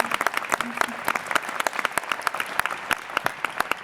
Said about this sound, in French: je peux vous applaudir